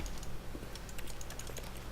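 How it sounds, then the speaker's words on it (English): Keyboard key clicks from The Stanley Parable video game, a steady run of light, close taps at a moderate, fairly even pace, with no voices. "when you click, you get this little tappy sound. Like on the keyboard"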